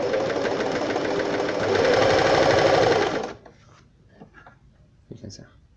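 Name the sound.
Elna Simple 113 sewing machine sewing straight stitch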